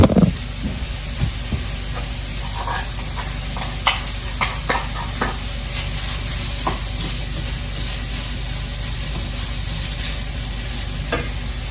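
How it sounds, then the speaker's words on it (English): Broken-up rice dumped into a pan of hot oil sizzles loudly and steadily, with scattered scraping and stirring clicks of a utensil over the constant hiss. "now that that's been warmed up for a bit, you just dump in the rice"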